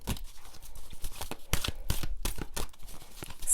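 Oracle cards from an Energy Oracle deck being shuffled by hand, a run of quick papery riffles and flicks with crisp bursts of card noise, close and fairly quiet, with no talking.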